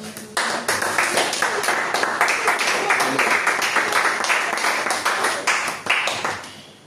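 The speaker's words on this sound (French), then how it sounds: "On acclame la parole du Seigneur et on s'assoit." A church congregation at a Sunday service applauds together, a dense steady clapping that starts abruptly and keeps going for several seconds before it tapers off at the end.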